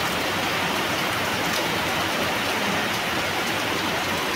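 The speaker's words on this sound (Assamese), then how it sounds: "এতিয়া বৰষুণ আহিয়ে গৈছে" Heavy rain falls outdoors, a dense and steady close-up roar of drops with no pauses and no voices.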